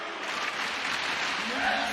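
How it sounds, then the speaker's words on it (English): A large arena crowd roars steadily at the LEC Season Finals lower final between G2 Esports and MAD Lions, a broad continuous cheer with a caster talking over it. "you already hear the roar of the crowd"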